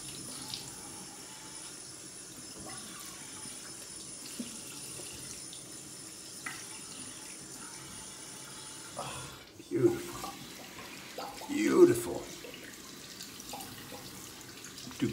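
Water runs quietly from a tap for rinsing during a shave, a low steady trickle with louder splashes near the end, under some soft background noise.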